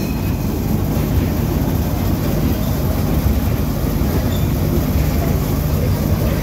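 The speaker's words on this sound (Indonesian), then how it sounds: "Nah, ini kereta mini ya." A mini train ride at Jungle Land amusement park in Sentul City, Bogor, Indonesia rumbles steadily throughout, with a continuous low mechanical drone and rail noise, fairly loud and without talk.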